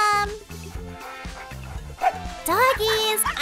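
Small dogs yip and bark among bouncy cartoon-style music and sound effects, short high barks clustered toward the end over a steady musical backing.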